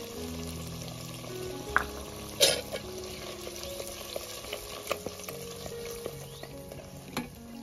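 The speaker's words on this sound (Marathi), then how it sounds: "तर छान असा आपला मसाला परतलाय." Masala for stuffed brinjal fries in a pan during village cooking, a steady close sizzle broken by a few louder stirring scrapes and clinks.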